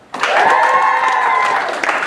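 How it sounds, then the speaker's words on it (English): An audience bursts into loud, sustained applause and cheering for an award nominee at a ceremony, the clapping close and continuous for about two seconds. "Let us give a big cheer to the Bigham Foundation Award nominee, Tom"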